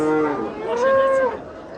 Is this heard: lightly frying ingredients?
no